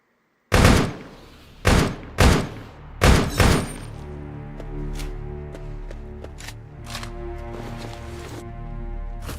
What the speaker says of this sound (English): Pretty certain to grab something's attention with that shooting.